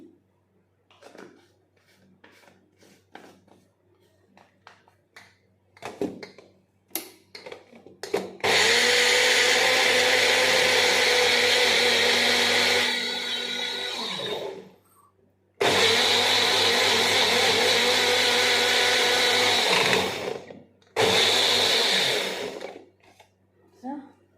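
A mixer grinder whirs loudly as it grinds spinach, onion, carrot, green chili and coriander into a paste for palak pulao, running in three long bursts with brief pauses. Before it starts there is clattering and a voice speaking.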